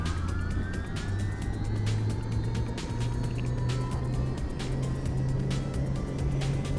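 A simulated aircraft engine in X-Plane 11 cranks without catching, giving a steady low droning whir with rapid regular clicks, close and continuous for several seconds, no talking.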